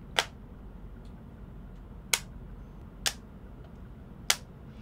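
Four sharp, separate clicks at irregular intervals as a stylus pencil snaps onto a magnet, crisp and close against a quiet background.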